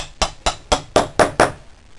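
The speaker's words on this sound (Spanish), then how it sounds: "Le doy con un martillo para que entre" Six sharp hammer blows drive a small tube into a hole in wood, evenly spaced at a steady rhythm, each a crisp close knock that quickly decays.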